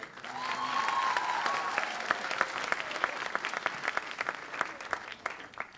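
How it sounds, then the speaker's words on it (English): An audience at a school stage performance claps in a long, dense burst of applause that swells and then thins into scattered claps, with a brief voice heard early on. "Give Annie a round of applause."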